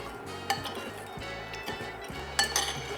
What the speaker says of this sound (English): Gonna just stir that till the sugar dissolves